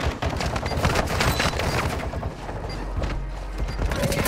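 Scattered gunfire in the shooter game Warzone 2, a busy run of shots and impacts from varying distances filling the whole stretch at steady loudness, with no speech.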